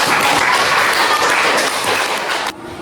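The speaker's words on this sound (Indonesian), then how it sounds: "kita berikan tepuk tangan" Sustained classroom applause for a student group's presentation, steady dense clapping from a room of people that cuts off abruptly near the end.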